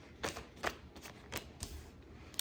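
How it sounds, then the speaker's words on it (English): Tarot cards being shuffled by hand, a soft, close series of riffling flicks and taps at an irregular rhythm, quiet and with no talking. "Let's get one more shuffle."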